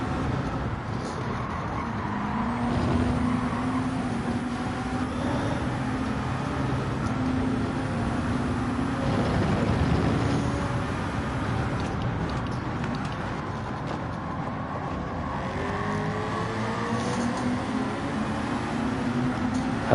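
Race car engines in Gran Turismo 7 during a GT World Series Manufacturers Cup round at Blue Moon, USA: a continuous pack of cars roaring and droning together, steady and loud throughout with no voices.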